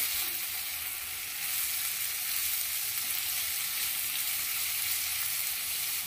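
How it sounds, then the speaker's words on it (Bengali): Winter vegetables with onion and green chilli fry for Hakka noodles, making a steady, close hissing sizzle that holds evenly throughout with no talking. "ভালো করে সবজিগুলো ভেজে নেব।"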